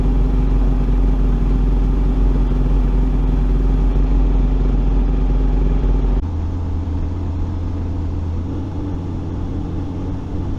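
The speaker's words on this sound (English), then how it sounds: "started the bike and let it warm up to allow any trapped air to escape." A motorcycle engine idles steadily as it warms up after a cooling-system repair, a loud close rumble with even clatter that drops to a slightly lower, quieter idle partway through.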